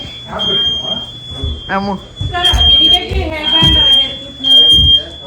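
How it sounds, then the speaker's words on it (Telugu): A home smoke alarm set off by cooking smoke in an American house sounds a steady high-pitched tone across nearly the whole stretch, while people talk loudly nearby. "అమెరికాలో ఇంట్లో పొగ ఎక్కువ అయితే ఇలా అలారం మోగుతూ ఉంది."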